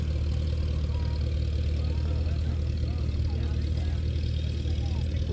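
Vintage farm tractor engine idling at an outdoor tractor show and pull, a steady low rumble running throughout with people talking nearby over it.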